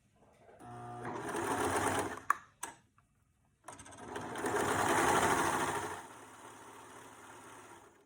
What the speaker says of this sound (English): take it to your sewing machine or serger and sew down that, making that seam in the back